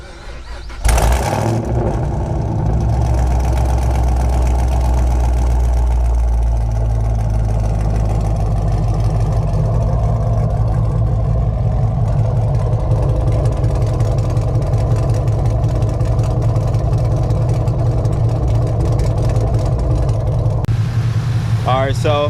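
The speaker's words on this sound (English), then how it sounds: "Alright, so this is what the engine sounds like when it's on." A Chevrolet Camaro SS V8 with its muffler deleted starts up close by and settles into a loud, steady idle with a deep low rumble that runs nearly the whole time, and brief talk comes near the end.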